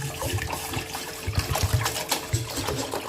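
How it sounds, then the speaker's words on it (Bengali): Water pours from a tap into a cooking pot before boiling pasta, a steady close splashing and trickling stream that runs the whole time with small gurgling bursts. "এবার এখানে আমি জল দিয়ে দেবো।"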